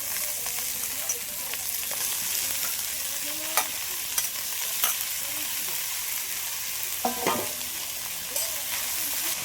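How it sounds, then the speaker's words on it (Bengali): Chopped katoya greens stir-fry in hot oil with onion and garlic, a continuous close sizzle broken by occasional clinks and scrapes of a spatula in the pan. "এইবার আমি শাক কুচানো এটা দিয়ে দিচ্ছি"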